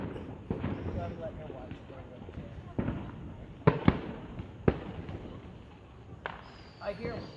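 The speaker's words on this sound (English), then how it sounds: "Our fireworks are on the ground." Fourth of July fireworks go off at a distance as a series of irregular sharp bangs and pops, with people talking nearby.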